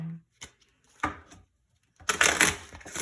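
Playing cards are shuffled by hand close up, with a few short papery flicks followed by a longer crackling riffle burst toward the end.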